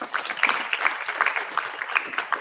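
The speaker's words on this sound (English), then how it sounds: "Let's round of applause at you." An audience at a live Social Security event gives a brief round of applause, a few seconds of light, scattered clapping of moderate loudness.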